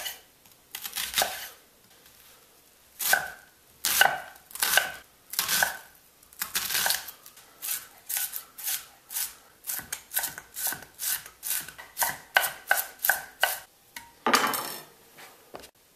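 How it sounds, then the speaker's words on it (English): A knife chops an onion on a cutting board, sharp close knocks in irregular bursts that quicken into a steady run of rapid strokes, with no talking. "Next we're going to chop our onion."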